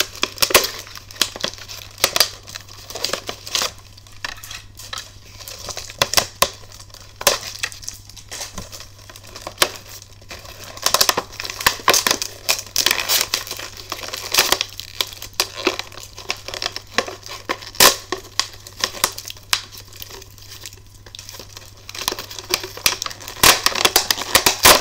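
Plastic packaging around a toy figure gets crinkled, torn and pulled apart in irregular bursts of close, sharp rustling and crackling, continuing for a long stretch without talk.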